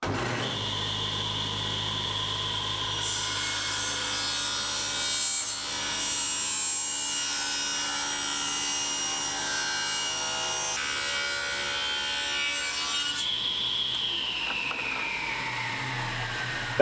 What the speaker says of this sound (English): While the glue sets up, we can cut runners for the sled out of maple.